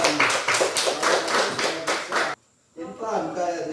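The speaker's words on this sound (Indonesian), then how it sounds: "Bagus, tepuk tangan." A class of students clapping hands together in rhythmic unison, sharp synchronized claps in a steady beat that stop abruptly, then a voice speaks afterward.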